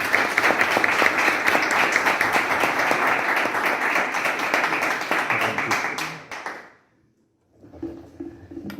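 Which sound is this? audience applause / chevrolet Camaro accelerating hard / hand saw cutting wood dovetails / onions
audience applause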